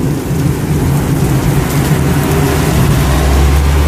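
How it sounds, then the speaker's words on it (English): Heavy rain pours during a severe summer thunderstorm, heard from beneath a building's overhang, with a steady loud hiss and low rolling thunder rumbling underneath that swells toward the end. "Here comes the rain."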